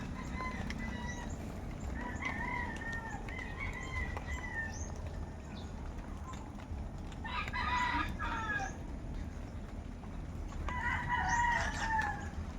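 Chickens cluck in short bursts while a rooster crows twice, near and moderately loud, over a steady outdoor background hum with occasional wing flaps.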